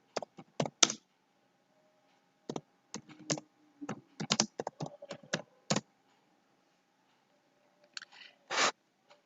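Typing on a computer keyboard, with bursts of sharp key clicks in quick irregular runs separated by pauses, close and clear with no talking.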